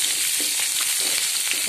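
Onions fry in hot oil for avarakai poriyal, a broad bean stir-fry, with a close, steady hiss and crackle that continues without a break.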